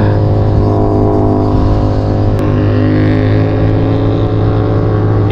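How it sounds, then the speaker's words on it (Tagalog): A motorcycle engine drones loudly on the NLEX expressway near KM23 during a group ride, a steady close roar with strong low hum and wind rush throughout, no talking. "Iba talaga pumunit yung motor ni Angelo mga buddy"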